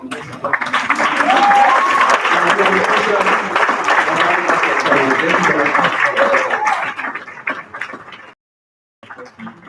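Audience applause at an event, loud dense clapping with cheering voices mixed in that fades, cuts to near silence, then returns briefly.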